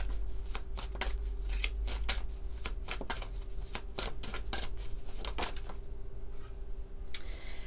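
Tao oracle cards shuffled by hand, giving a steady run of crisp riffling flutters and soft slaps, close and fairly quiet, with no talk.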